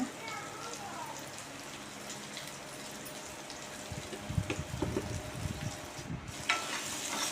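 Bitter gourd pieces fry in a pan with a soft, steady sizzle and brief stirring clatter near the end, the crackle staying close and fairly quiet.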